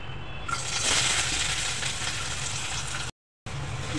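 Chopped onion sizzles in hot oil in a heated kadhai over a low gas flame, the first step of a traditional Malvani kulith pithi recipe. A steady, close frying hiss runs throughout, broken by one brief silent gap.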